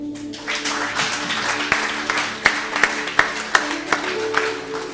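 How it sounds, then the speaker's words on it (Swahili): Congregation clapping hands at a youth Sunday church service, a steady wash of applause with several sharp, louder claps standing out in the second half, with a low sustained tone underneath. "Bwana pigiwe makofi."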